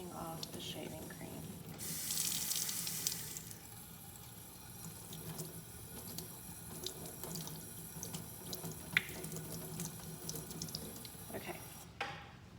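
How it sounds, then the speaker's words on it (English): Tap water runs steadily into a sink as shaving cream is gently rinsed off a painted pottery plaque, a continuous close splashing flow with a brief brighter spray early on, lasting throughout with faint background sounds. "Very gently rinsing off the shaving cream."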